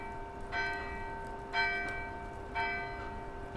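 Bell sound option in the video game Universe Generator: three evenly spaced bell strikes, each ringing with a bright tone and lingering hum over a quiet hissy background, with no speech.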